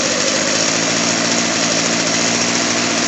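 A Craftsman chainsaw engine runs steadily and loud right after a carburetor adjustment, a continuous buzzing drone with the revs held high for the whole stretch and no talking.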